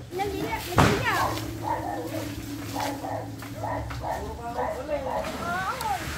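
A dog barks with a few short yips and whimpers among people talking and shouting in a home setting, with a sharp slam near the start.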